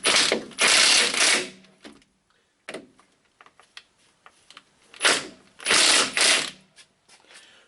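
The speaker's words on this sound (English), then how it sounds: "we'll tighten these and get that one with the ratchet real quick" Ratchet tightening steering box bolts on a 2002 Chevy 2500HD during a pitman arm job, fast buzzing pawl clicks in three loud bursts with quieter scattered clicks and taps between, close up.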